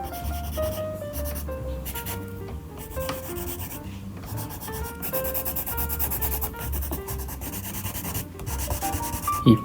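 Colored pencil rubbing and blending on paper makes close, steady scratchy strokes in repeated back-and-forth bursts, with a faint tonal background underneath.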